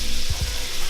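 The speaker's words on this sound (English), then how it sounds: "On the other side of that pan, I'm going to do my white mushrooms." White mushrooms frying in a pan, giving a steady broad sizzle throughout with a couple of low thumps from stirring, close and fairly loud with no talking.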